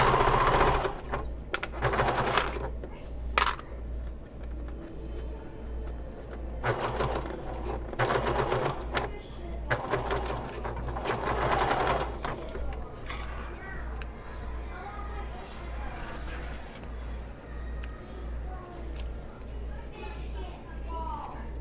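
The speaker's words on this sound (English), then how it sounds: "I'm basting these both at the same time." Sewing machine basting fabric bag pieces in short bursts of rapid stitching separated by pauses, close up, with a person talking quietly between runs.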